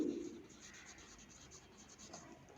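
Writing numbers by hand during a math lesson, a soft, steady scratchy rubbing of pen or chalk across a surface, faint and close, with no talking.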